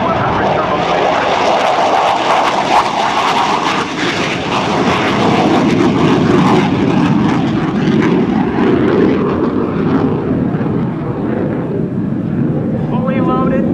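Loud, sustained roar of F-15 Eagle fighter jets with Pratt & Whitney F100 turbofans on full afterburner at an air show, a thick continuous rumble filling the whole stretch without a break.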